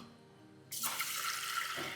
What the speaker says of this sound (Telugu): కొంచెం నీళ్ళు వేసి ఒక 2 సార్లు వాష్ చేద్దాం